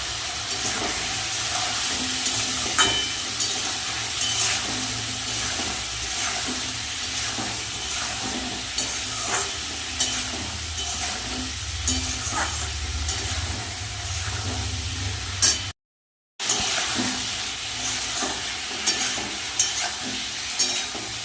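Elephant foot yam and potatoes sautéing with spices in a pan, a steady close sizzle with stirring scrapes running throughout, broken by a brief silent gap near the end.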